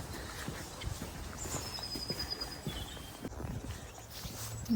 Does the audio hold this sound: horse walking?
yes